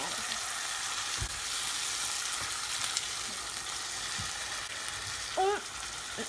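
Tomatoes fry and are stirred in a pan, a steady bright sizzle running throughout with a few soft scrapes of the spoon and a brief clink near the end, close and moderately loud.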